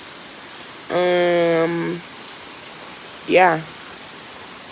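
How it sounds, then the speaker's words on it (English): Heavy rain pours outdoors as a flash flood sets in, forming a steady low hiss beneath two brief vocal sounds from a nearby person. "It's just rain."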